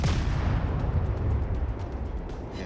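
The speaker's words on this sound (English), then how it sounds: "We do manage to get a torpedo hit on the Langley." A torpedo hit explodes against the aircraft carrier Langley in the naval game World of Warships, a loud, sustained boom with deep rumble rolling on for several seconds, no voices over it.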